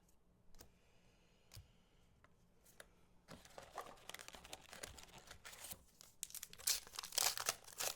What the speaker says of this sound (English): Throwing cards around.